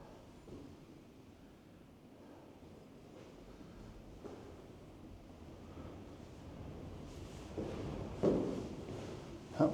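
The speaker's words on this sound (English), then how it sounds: "That wind's getting off." Wind buffeting outdoors with surf-like rushing, faint at first and building toward gusty bursts near the end, with a few scattered voice sounds.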